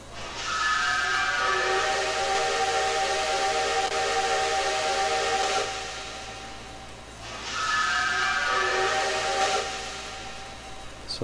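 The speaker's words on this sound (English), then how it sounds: "And it does have a secondary whistle." Secondary saturated steam whistle on a CN S1b 2-8-2 steam locomotive in Trainz 2019, sounding two long, loud hissy blasts close by, each held several seconds with a breathy steam hiss beneath and a brief pause between.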